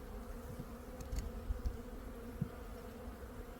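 Honeybees move inside an open beehive, their dense, steady buzzing drone filling the space close up, with a few faint knocks and bumps from handling the frames and no talking.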